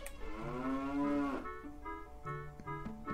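A cow in the video game Ocarina of Time lets out one long, close, drawn-out moo that rises and then falls away, followed by a few short tonal game sounds, with no voices.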